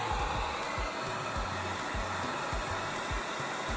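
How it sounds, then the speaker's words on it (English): A heat gun blows hot air over heat shrink tubing on car wiring, a continuous close, loud fan roar with a few low thumps from handling underneath. "Get your heat gun."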